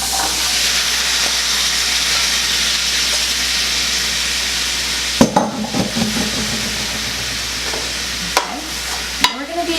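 Apples fry in about three tablespoons of butter in a pan with a loud, continuous sizzle and hiss, interrupted by a few scraping stirs and clanks as the slices are pushed around.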